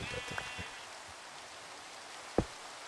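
Steady rain hisses in the video game Minecraft, a soft continuous wash with a few faint sheep bleats early on and one sharp click near the end, with no talking.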